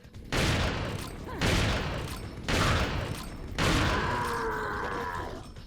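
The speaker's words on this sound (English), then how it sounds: "the Striker required 4 shots to kill the first Salvador" Striker shotgun blasts from Resident Evil 4 Mercenaries, four loud booming shots at roughly one-second intervals, each with a long rumbling decay, the last trailing into a ringing echo.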